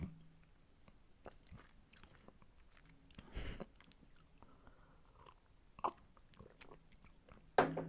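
Someone eating right beside a sensitive desk microphone produces soft, wet chewing and gulping up close. Quiet, irregular mouth sounds are punctuated by a few sharper crunches and clicks, with no speech.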